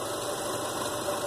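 A Chevy truck engine fitted with a custom cold air intake runs steadily, a constant close mechanical drone with a faint knocking texture and no voices.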